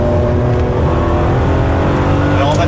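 Ferrari 599GTB on the Fiorano circuit, its engine droning loudly and steadily from inside the car, a dense unbroken mechanical roar with a slight rise near the end.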